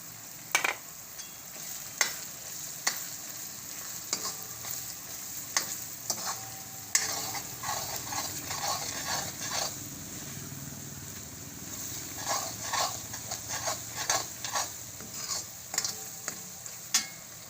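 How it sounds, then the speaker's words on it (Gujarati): Chutney goes into a frying cashew and garlic curry, and a spoon stirs it with frequent scraping knocks over a continuous sizzle, close by and alone. "અને આપણે આ ચટણી નાખી દેવું."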